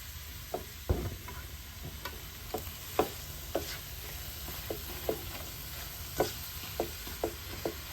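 Duck curry with minced tomato fries in a pan over a steady low sizzle while a spoon stirs it, making light, evenly spaced clicks and scrapes close by.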